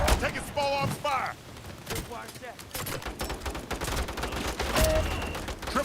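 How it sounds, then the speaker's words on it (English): Bursts of small arms gunfire in the Modern Warfare multiplayer video game, sharp rapid cracks mixed with chatter and electronic tones, with voices talking over the shooting throughout. "Taking small arms fire"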